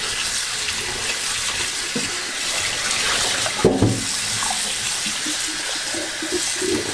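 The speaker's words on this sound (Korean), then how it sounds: "요거 물에 한번 헹궈서 전분가루가 있기 때문에 물에 한번 헹궈 주셔야 됩니다" Running tap water pours steadily over braised sweet potato pieces as they are rinsed of starch, a continuous close splashing hiss with a brief louder knock midway.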